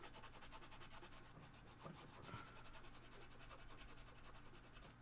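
A green 3M Scotch-Brite pad scrubs the printed circuit board of a Williams Star Pool pinball machine, making a steady, close abrasive rubbing that runs without pause under a constant background hum.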